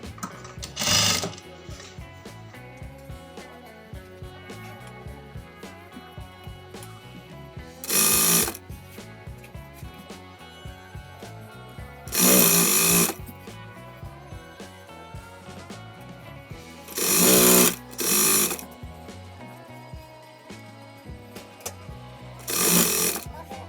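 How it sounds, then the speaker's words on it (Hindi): A sewing machine stitches folded fabric to attach samosa-style lace, running in steady bursts of rapid mechanical whirring with short pauses between runs, close and fairly loud throughout. "अंदर की तरफ फोल्ड करके और हम सिलाई लगा लेंगे"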